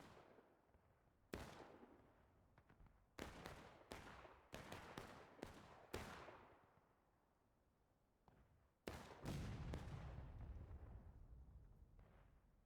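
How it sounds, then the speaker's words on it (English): Cannon shots boom out in a Civil War video game battle, several sharp loud blasts in an irregular sequence, each trailing into a rumbling decay, with a heavier sustained roar near the end. "Looked like another good cannon shot."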